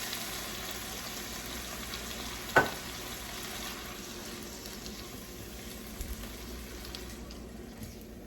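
Tomato sauce goes into a pan of Cuban-style red beans, frijoles colorados, which sizzle quietly and steadily, with one sharp clink partway through and a few faint knocks later.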